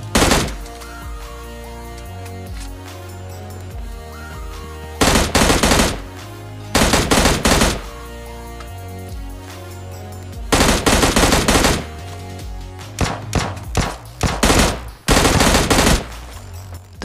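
Loud automatic gunfire from the mobile shooter PUBG Mobile Lite comes in repeated rapid bursts of close shots over a constant game music and ambience bed.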